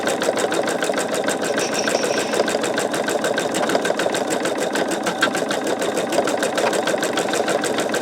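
Embroidery machine stitching a sugar skull design, a loud, close, steady whir with fast regular needle clatter running unbroken throughout.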